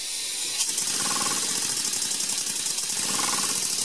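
A small steam engine runs on a newly built boiler with a rapid, steady mechanical chuffing and rattling beneath a constant hiss, heard close up and without talk.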